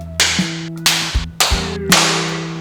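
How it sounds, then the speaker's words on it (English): Four sharp hand claps in an indoor room, spaced about half a second apart, each followed by a short reverberant tail, with a steady low hum underneath. "I like to clap and find out where the echo is coming from."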